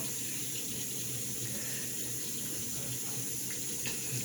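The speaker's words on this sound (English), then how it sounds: "I'm gonna wet my face" Water runs steadily from a sink tap while someone wets their face, a constant close splashing hiss with small shifts in the flow and no speech.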